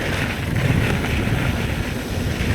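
Wind rushing past while mountain biking on a forested pine trail near Denver: a steady, loud, broadband roar with gusty swells, continuous and close, and no voices.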